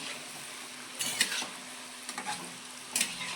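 Semolina (rava) gulab jamun balls frying in hot oil over low to medium heat, a soft steady sizzle with brief crackling bursts as each ball is slipped in, close and alone without talk.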